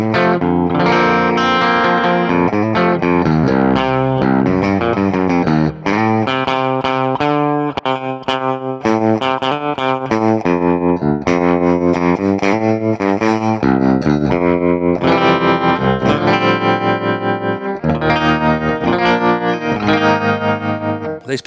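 Baritone electric guitar played continuously through a Deluxe Reverb amp model with a warm, reverberant tone, chords and melodic lines ringing out steadily with no talking.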